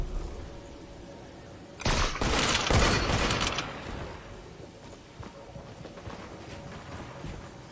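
A short burst of video game gunfire, a loud cluster of shots lasting about two seconds, then fading into low background noise and faint clatter.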